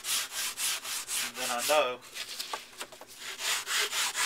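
Rhythmic back-and-forth sanding strokes rasp steadily against a wooden blade, close up, with someone talking briefly in the middle.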